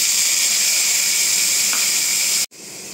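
Chopped onion tossed into bitter gourd frying in a hot pan gives a loud, steady hissing sizzle that holds evenly and then cuts off abruptly near the end.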